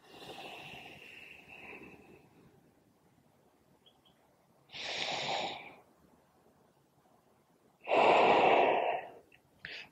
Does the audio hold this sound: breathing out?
yes